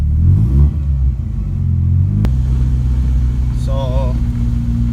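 A supercharged BMW E30 engine idles a little rich with a low, uneven rumble, rising briefly at the start before settling into a steady throb; a faint whistle-like tone wavers midway.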